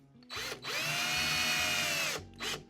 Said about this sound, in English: So let's grab the screws Let's put this in place, really nice and tight. And let's screw the first one.